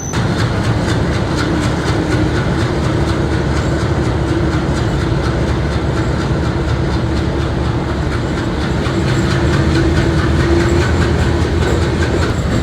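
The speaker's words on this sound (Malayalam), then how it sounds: "ഈ കിടക്കുന്ന ഗോമതേശ്വര എക്സ്പ്രസ് ആണ്. മംഗലാറ് ജംഗ്ഷനിൽ നിന്ന് യശ്വന്ത്പൂർ പോകുന്നൊരു ഇന്റർസിറ്റി ട്രെയിനാണ്." The Gomateshwara Express, an intercity train bound from Mangaluru Junction to Yesvantpur, rumbles loudly and continuously at the station, with rhythmic clattering and a low engine drone throughout.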